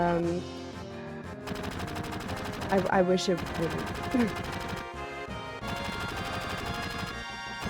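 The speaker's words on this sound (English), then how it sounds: "I've noticed that the sound of gunshots is in the same rhythm as the combat music." Rapid gunfire in Final Fantasy VII rattles over loud, driving combat music, with a brief burst of speech in the middle; the shots blend into the steady musical beat.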